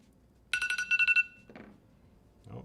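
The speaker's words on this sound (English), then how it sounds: "Oh, that's my alarm." Repeated electronic alarm beeps in a quick pulsing burst, bright and loud for under a second, then stopping, with faint rustling handling noise afterward.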